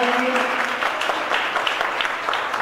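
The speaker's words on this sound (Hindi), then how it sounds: "एक बार जोरदार ताली बजा करके अनुमोदना करेंगे।" Loud, dense applause from a devotional gathering's audience honoring four young initiates at a Jain monk's religious event, a steady burst of clapping filling the whole moment with no pauses.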